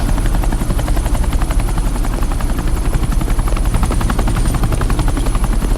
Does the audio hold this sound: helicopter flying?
yes